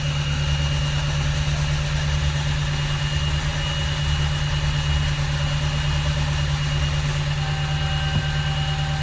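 A rebuilt 2018 Dodge Charger engine idling, a steady, loud, even hum with a constant low drone and no change in rhythm.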